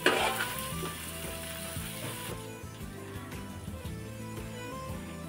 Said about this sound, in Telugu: ఉల్లిగడ్డ పేస్టు అల్లం వెల్లుల్లి పేస్టు పచ్చి వాసన పోయే వరకు వేయించుకోవాలి